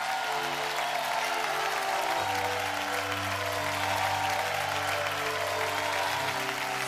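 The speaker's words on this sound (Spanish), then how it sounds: "¡Aplaude!" A church congregation applauds during a worship service, steady clapping spread across the room beneath sustained organ or keyboard chords, fairly distant and even.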